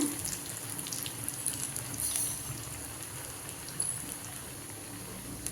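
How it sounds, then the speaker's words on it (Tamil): Rice-flour vada frying in hot oil, a steady crackling sizzle with fine bubbling pops, moderately close and continuous. "இப்படி எல்லாமே தட்டி நம்ம எண்ணெயில் பொரிச்சிக்கலாம்."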